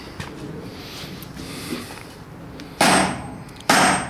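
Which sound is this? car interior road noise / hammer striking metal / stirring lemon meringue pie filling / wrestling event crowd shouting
hammer striking metal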